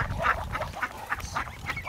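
Domestic farmyard ducks quack in a rapid, repeated series of nasal calls, close by and fairly loud, over a low rumble of background noise.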